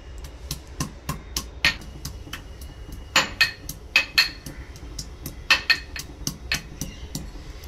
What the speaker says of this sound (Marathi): तेल गरम होईपर्यंत या ज्या लसणाच्या पाकळ्या आहेत ते आपण ठेचून घेऊयात।